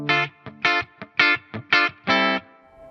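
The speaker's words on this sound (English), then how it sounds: "Let me show you that coil split." A Schecter Custom 2 Solo electric guitar with its pickup coil-split plays a short rhythmic phrase of distorted chords, bright and twangy, with choppy stabs between sustained strums ending on a ringing chord.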